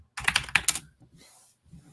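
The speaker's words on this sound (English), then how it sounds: "I'll actually type it for you here." Quick bursts of typing on a computer keyboard, a cluster of close, crisp key clicks followed by a few softer taps, alone with no talk over them.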